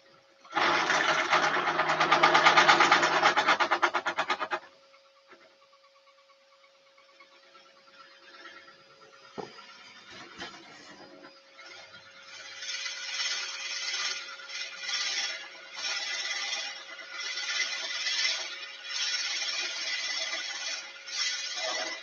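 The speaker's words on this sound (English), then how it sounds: "we'll see how the drill bit handles" A drill bit boring into a wooden shadow vase turning on a woodworking lathe at a public live demo. A loud grinding burst comes first, then a quieter stretch, then steady rhythmic whirring and chattering.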